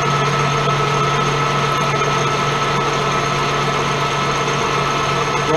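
A milling machine spinning at 490 RPM for spotting runs with a steady loud motor hum and constant tonal drone, unchanging throughout, with no talking.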